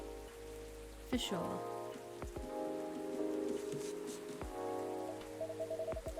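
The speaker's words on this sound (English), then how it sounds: "A place to be safe while the rain falls outside." Steady rain patters down outside in the Coffee Talk video game, a soft continuous wash beneath gentle background music, with a brief spoken voice near the start.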